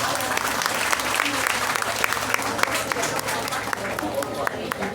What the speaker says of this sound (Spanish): Fuerte el aplauso para gloria de Dios.